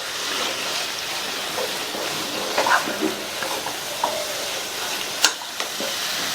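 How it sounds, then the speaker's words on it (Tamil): Grated pumpkin sautéing in ghee in a heavy kadai for halwa, a soft steady sizzle with a few scattered stirring scrapes and clinks, close and moderately quiet, no talking. "இப்போ இந்த துருவலை நெய்யிலேயே 4 to 5 நிமிஷத்துக்கு நல்லா வதக்கிக்கலாம்."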